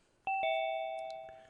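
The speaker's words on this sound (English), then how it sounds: "Oh, doorbell." A two-tone electronic doorbell chimes twice in a quiet indoor room, clear and fairly close, its tones ringing out and slowly decaying with no talking over it.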